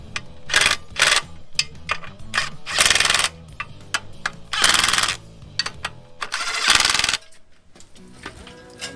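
Sharp metallic clanks and bangs from hammering metal with a piece of pipe on a Toyota BJ42 Land Cruiser, coming in irregular bursts of several strikes, fairly loud and close, with short pauses between.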